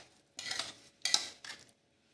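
Freshly ground momo chutney is scraped from a grinder jar into a bowl, giving two short bursts of spoon-on-metal scraping and clinking nearby, with quiet gaps around them.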